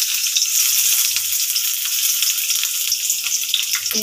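Onion dropped into hot oil for a poa fish curry, giving a steady, loud hissing sizzle that holds evenly throughout with a faint low hum beneath.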